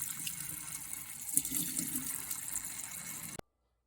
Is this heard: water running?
yes